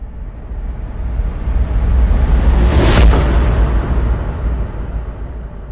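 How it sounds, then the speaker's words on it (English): A reversed reverb swell for horror music builds steadily from a low rumble into a bright whooshing crest, then falls away into a sustained dark wash, loud and without voices. "I've reversed that effect so that it almost creates a swell into this hit."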